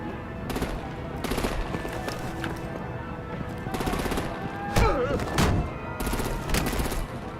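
Heavy automatic gunfire in Batman: The Enemy Within, repeated loud bursts of rapid shots with short gaps, with shouted voices in between.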